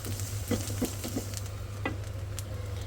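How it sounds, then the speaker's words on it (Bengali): Green chilies and garlic frying in hot mustard oil, a low continuous sizzle with a low hum beneath and a few soft stirring scrapes near the start. "কাঁচামরিচ রসুন দিয়ে এটা ভালো করে ভাইজা নিই"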